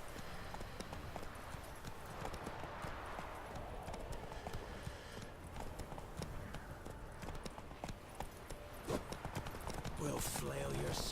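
A horse ridden in The Witcher 3 clip-clops in a fast, rhythmic gallop of hoofbeats that runs throughout, mixed with game sounds and speaking voices.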